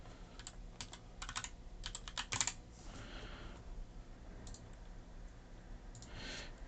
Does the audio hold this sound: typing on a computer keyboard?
yes